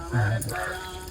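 A brief splash of water being poured, close by, with voices in the background.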